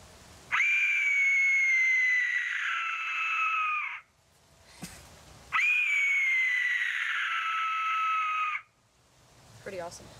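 A death whistle blown to sound like a child's scream: two long, loud, piercing shrieks of about three seconds each, separated by a short pause, with faint background noise between them.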